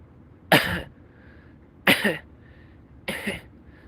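A man coughs three times in short, harsh, evenly spaced bursts, close and loud against a quiet room.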